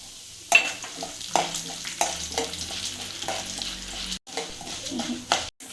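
Urad dal and chana dal frying in hot oil in a pan, a steady close sizzle broken by several scraping stirs with a spoon, with no talk.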